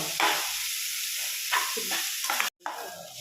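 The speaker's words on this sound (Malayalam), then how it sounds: "ഇത് നമുക്ക് നന്നായി വഴറ്റി കൊടുക്കാം ഇത് ബ്രൗൺ കളറാവുന്നവരെ മൂപ്പിച്ച് കൊടുക്കണം" Onions sautéing in a hot pan until brown, with a steady close sizzle broken by repeated stirring and scraping strokes and one brief dropout near the end.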